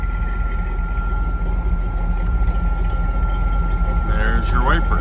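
1978 Chevrolet K10 pickup engine fitted with headers, idling with a steady low rumble throughout, and a brief faint squeal toward the end.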